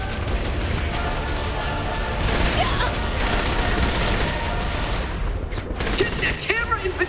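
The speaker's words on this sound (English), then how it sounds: "Enough with the explosions!" Gunfire and explosions from Saints Row The Third clatter nonstop in dense, loud bursts, heavy booms mixed with rapid shots, and a voice cuts in briefly near the end.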